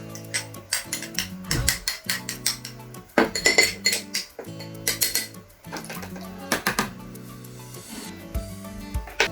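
Glassware clinks and scrapes as a potato is stirred with a reagent solution, giving a busy, irregular run of close taps and rubbing sounds.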